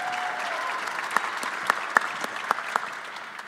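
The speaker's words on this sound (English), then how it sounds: "I haven't gotten this much applause in a long time." Applause fills a press-conference room, a steady wash of many hands clapping with a few sharp, closer claps standing out, gradually tapering.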